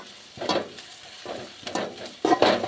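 Onions sauté with green chillies in a pan for egg podimas, giving soft bursts of frying hiss with a few scraping stirs in short uneven strokes, close and moderately loud.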